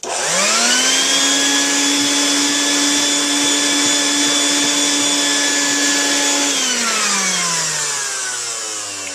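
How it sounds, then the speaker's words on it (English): A loud shop vacuum whines steadily at close range, its motor tone holding level before winding down near the end. "I'm going to vacuum that up now."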